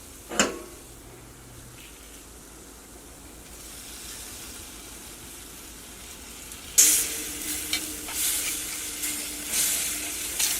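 Tomato dropped into a pan of spiced curry masala, setting off a sudden louder sizzle and hiss of frying partway through after a quieter simmering stretch, with a brief clatter near the start.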